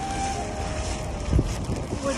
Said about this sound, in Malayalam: നല്ല കാറ്റാണ്, തണുത്ത കാറ്റ്.